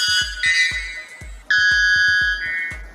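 Piercing, siren-like bird screams blare in long sustained tones, shifting pitch, over a steady rhythm of low thumping beats.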